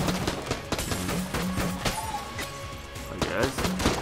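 The mail gun firing repeatedly in Enter the Gungeon, a string of quick popping shots over game music, with a person talking through much of it.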